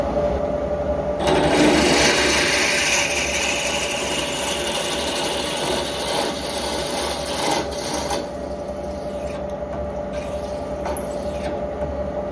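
An Australian-made Waldown Vari-Speed drill press drills a hole with a Sutton drill bit, giving a loud, continuous grinding whir that runs for about eleven seconds, with no talk.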